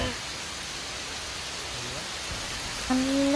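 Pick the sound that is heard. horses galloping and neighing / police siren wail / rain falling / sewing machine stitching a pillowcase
rain falling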